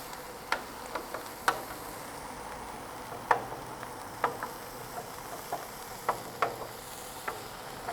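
Mexican chorizo cooks in a pan over medium heat, giving a low steady sizzle broken by scattered sharp pops and crackles at uneven intervals.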